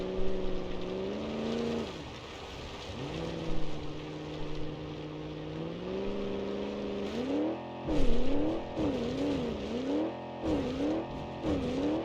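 A race car in BeamNG.Drive works its engine on a dirt track, droning steadily before the revs climb and fall in quick repeated throttle blips, with tire noise beneath and no one talking.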